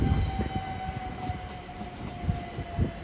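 A Class 387 electric multiple unit in Southern branding, formerly Great Western Railway, passes at Clapham Junction: steady rolling rumble with rhythmic wheel clatter over rail joints and a sustained electric whine throughout.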